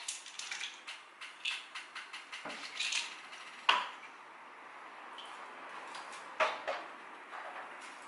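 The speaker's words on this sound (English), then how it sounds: "I'm just going to crush that between my sterilised spoons." Metal spoons clink and scrape together while a campden tablet is crushed between them during blueberry country wine homebrewing, a series of sharp close taps and grinding clicks.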